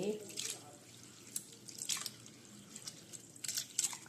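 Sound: washing sago pearls in water

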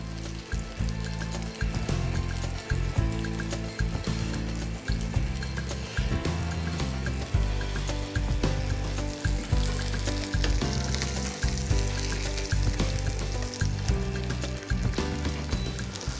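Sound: veal escalope frying in oil and butter

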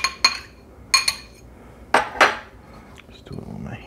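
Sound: mixing sausage ingredients in a bowl

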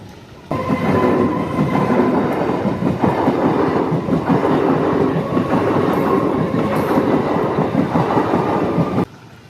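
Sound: train passing a closed railway level crossing

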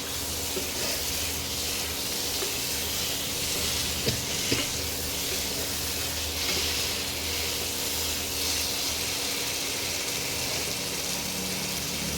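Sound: potatoes and meat being sautéed in a pan

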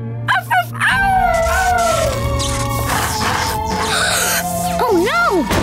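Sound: cartoon dog howling

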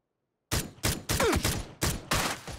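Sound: gunshots in the video game PUBG

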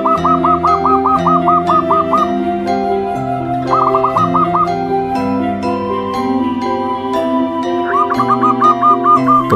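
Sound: zebra dove (perkutut) cooing

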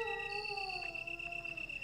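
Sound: dogs howling in the video game Resident Evil

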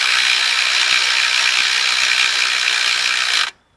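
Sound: ratchet tightening Toyota 4Runner alternator bolt

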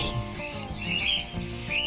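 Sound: cockatiel chicks begging for food

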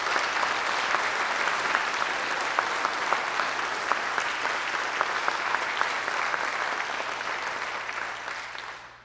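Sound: audience applause at a concert band event

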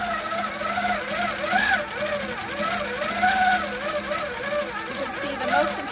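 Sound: sewing machine quilting a quilt

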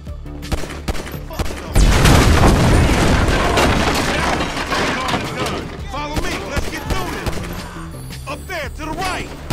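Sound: gunfire in the video game Grand Theft Auto V

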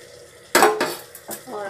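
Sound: jackfruit added to onions and frying in a pan

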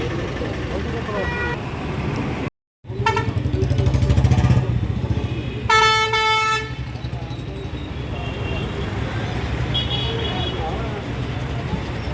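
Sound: truck pressure horn fitted on a tractor

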